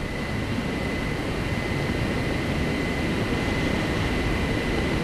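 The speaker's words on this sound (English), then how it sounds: "An RAF training plane keeps flying overhead." An RAF training plane passes overhead above Thruscross Reservoir, its engine making a steady droning rumble with a faint sustained whine that stays loud and even for the whole stretch, with no voices.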